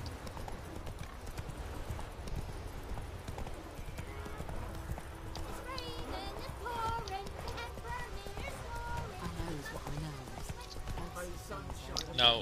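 Roach, a horse in The Witcher 3: Wild Hunt, gallops with a steady, fast clip-clop of hooves that runs throughout, overlaid by game music and a voice talking.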